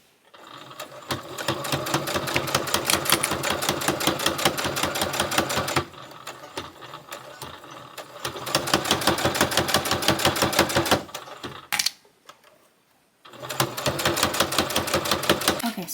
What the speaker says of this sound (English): Now I'm just gonna sew some random veins down the center.